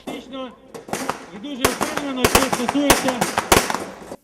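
Gunfire at a police tactical shooting drill, with sharp, loud shots in quick irregular bursts and single cracks. Someone speaks over the shooting throughout.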